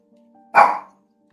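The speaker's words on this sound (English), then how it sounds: "there's a dog outside, and that's barking outside, so he's barking inside" A dog barks once indoors, a single loud, close, sharp bark standing alone against a quiet room.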